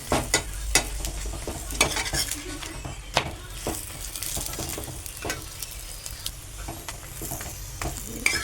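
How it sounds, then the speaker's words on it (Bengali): A tiffin snack sizzles in a little oil in a pan after being pressed. The steady frying hiss runs throughout, broken by sharp clicks and scrapes of stirring, close and fairly loud. "এইভাবে ভেজে নিতে হবে।"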